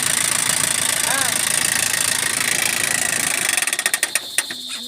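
An engine that had been dead turns over, catches and runs rough and knocking for several seconds, then cuts out into short sputtering bursts near the end. A voice is heard faintly in the background.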